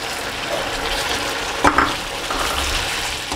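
Green chillies, ginger-garlic paste and tomatoes sizzle in hot oil for a chicken curry, a steady frying hiss broken by a brief clatter of stirring midway.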